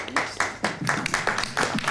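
A theatre audience applauds at a season presentation, a short burst of close, dense clapping with uneven rhythmic peaks.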